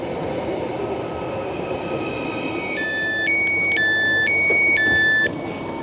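A Merseyrail train gets under way with a loud, close rumble, then a run of bright two-tone electronic beeps and chimes sounds over the noise before the train settles into a steady roar.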